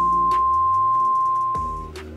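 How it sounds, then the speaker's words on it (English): NOAA Weather Radio's single 1050 Hz attention tone sounds as a loud, steady, pure electronic beep for nearly two seconds, then cuts off, leaving faint background noise. "NOAA Weather Radio All Hazards uses a single 1050 Hz tone as their attention signal"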